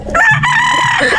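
A game-farm rooster in Batangas crows loud and close, one full drawn-out cock-a-doodle-doo that fills the whole moment.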